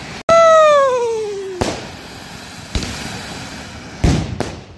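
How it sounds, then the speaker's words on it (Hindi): Fireworks go off at a Guru Nanak Gurpurab celebration in Srinagar, where anar flowerpot fountains are being lit: a loud falling whistle, then several sharp cracks and bangs spaced over a few seconds. "मैंने चलाया तबाही वाला अनार, एक और चल गया"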